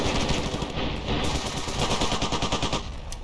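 Rapid automatic gunfire from the video game Ravenfield, loud and continuous bursts in quick rhythm with overlapping shots for the whole stretch.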